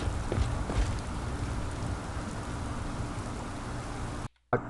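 Steady rain hisses in an Elder Scrolls Online game scene, a dense even patter with a few louder knocks early on, cutting to near silence just before the end.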